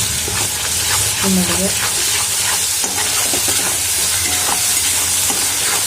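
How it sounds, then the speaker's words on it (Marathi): Bitter gourd sautéing with turmeric in a pan, a loud, continuous sizzle layered with frequent spatula scrapes and stirring clatter, close up, with a brief faint voice in the background. "तो जाण्यासाठी फक्त थोडंसं परतून घेऊ"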